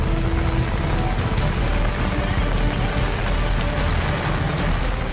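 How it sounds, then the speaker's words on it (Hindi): Heavy rain pours during a street flood on Raiya Road in Rajkot, Gujarat, a dense, unbroken roar of water and downpour with constant broadband hiss. "बारिश भयंकर हो रही है।"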